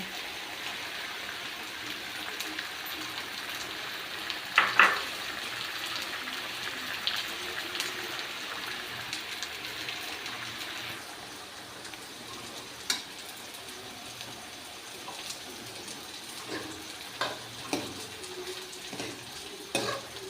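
Chopped capsicum frying in a pan, a close, even hissing sizzle with scattered clicks and scrapes from stirring, the hiss easing off about halfway as the stirring knocks continue.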